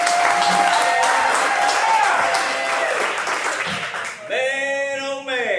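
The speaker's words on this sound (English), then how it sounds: "Let's give a round of applause to begin." Live audience at a Sturgis motorcycle rally breaks into sustained applause with crowd noise and voices over it, fading as a single held tone and talk take over near the end.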